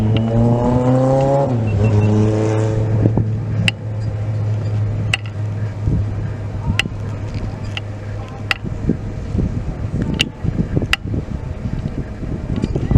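A drag racing car at the NHRA Julesburg race track: an engine note rising sharply at first, then a loud, sustained roar with wind buffeting and faint sharp clicks throughout, no voices.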